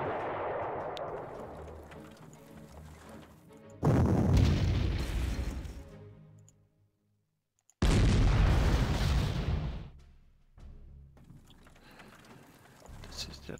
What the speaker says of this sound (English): there is the artillery